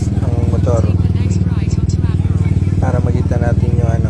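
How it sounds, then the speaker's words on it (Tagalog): A motorcycle with an ABS fault runs on a test ride, its engine drone steady and close throughout while someone talks over it. "Kailangan natin test drive yung unit para makita natin yung status ng motor."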